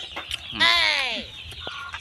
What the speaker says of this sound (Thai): นี่ก็จะเป็นเป็ดไก่เนาะ